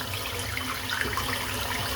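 A tap runs steadily as a shaving brush is rinsed beneath it, giving a continuous close splashing hiss with small bubbling variations.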